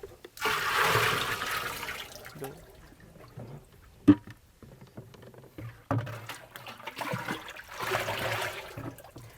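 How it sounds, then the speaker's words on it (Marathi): Liquid fertiliser splashes and gurgles into a water tank in two bursts with a quieter trickling stretch between, and a single sharp knock partway through, while preparing a banana plant drench. "हे जे लिक्विड वगैरे होतं ते आपण डायरेक्ट टाकलंय"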